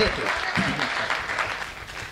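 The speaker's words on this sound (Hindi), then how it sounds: "जोरदार तालियां भाई, बहुत बढ़िया" An audience gives loud applause, a continuous patter of many hands clapping, with voices speaking over it.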